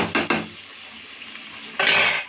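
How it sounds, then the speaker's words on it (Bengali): Metal lid set onto a cooking pot of waterless chicken curry with potatoes: a couple of quick clanks, then a louder scraping clatter close by, over faint kitchen background. "ঢাকাটা দিয়ে দিলাম"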